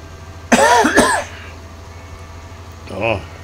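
A person coughs twice, sharp and close, with a short gap between the coughs, over a low steady hum from a farming tractor game running in the background.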